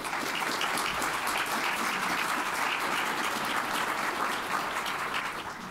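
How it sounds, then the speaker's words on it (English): An audience applauds a panel at a community event, a dense, loud, steady clapping that continues evenly throughout and fades slightly at the end. "If everybody could join me in giving a round of applause to this amazing panel."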